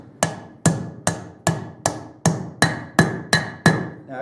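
A hammer taps a wheel bearing into a motorcycle wheel hub in a garage: ten evenly spaced, sharp metallic knocks, each with a brief ringing decay, close and loud with nothing else around them.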